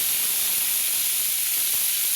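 Cut potatoes hitting hot mustard oil in a wok, giving a steady, loud, broadband sizzling hiss that holds without a break from start to finish, with no voices over it.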